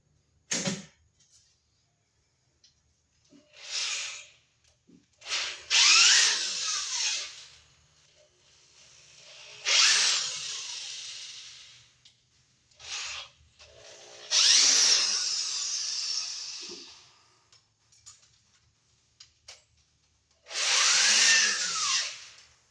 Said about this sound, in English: We're going to drill our hole right here.